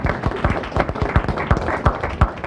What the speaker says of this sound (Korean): 우리 큰 박수 한번 쳐주세요.